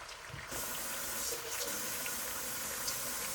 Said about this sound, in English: I'm going to rinse the celery again because I'm not sure that I rinsed it all right.